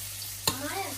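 Mushrooms fry in a pan with a steady sizzle, broken by one sharp clack of a utensil against the pan midway, and a voice is faintly heard afterward.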